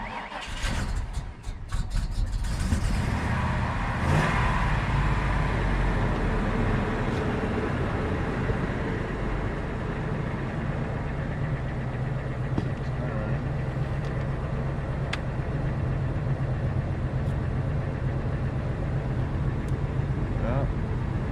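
A $100 Honda Civic on a cold morning cranks over in a few short bursts, catches, and settles into a loud continuous idle with slight revving, with a voice speaking briefly over the engine.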